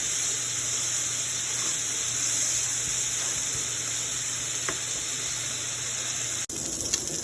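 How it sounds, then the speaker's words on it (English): Liberian-style dry rice cooking in a pot makes a continuous soft steamy hiss close by, steady throughout, with a short break near the end and no speech. "every 2 minutes, you wanna flip it over to avoid it from getting burnt before it's well cooked"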